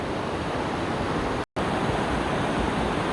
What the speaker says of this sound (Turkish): Sürekli böyle e, şelaleler var. Yani şelale ve yoğun su.